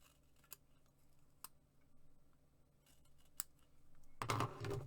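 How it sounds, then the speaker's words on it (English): A pair of scissors is thrown onto a floor during a craft session, with a few sharp ticks and snips followed by a loud, close clatter as they land near the end. "don't throw your scissors on the floor"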